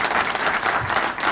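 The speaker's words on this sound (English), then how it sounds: "I think he can be given a round of applause." An audience gives a round of applause, dense and continuous clapping filling the room, loud and close, with no talking over it.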